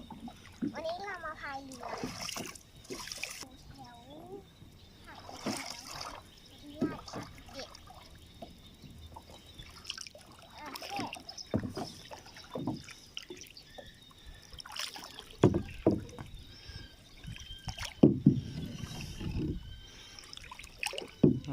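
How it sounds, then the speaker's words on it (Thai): A rowboat paddled along a canal in the Hathai Rat 37 area of Bangkok, with irregular water splashes and drips scattered through the clip amid outdoor ambience and a talking voice. "ก็มีให้พายเรือนะครับ"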